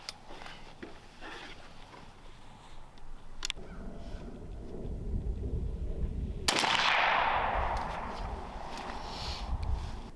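A .410 shotgun firing Turkey Ninjas Apex 9.5 TSS shot at 20 yards outdoors: two sharp reports, a small one early and a louder blast midway, with a trailing rumble after the second.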